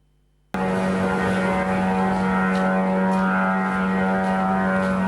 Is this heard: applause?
no